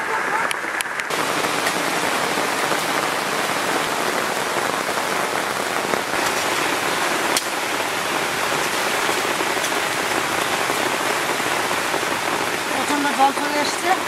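Heavy rain pours down in a dense, unbroken hiss of drops beating on surfaces, loud and steady throughout with no pauses, in an outdoor village cooking spot.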